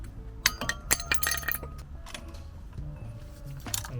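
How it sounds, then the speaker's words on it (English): Metal brake pads clink and clatter as they come out of the front caliper of a 2018 Seat Ibiza FR or VW Golf: several sharp, close taps and knocks, loudest in the first half, over a low background hum. "Remove the brake pads, like so."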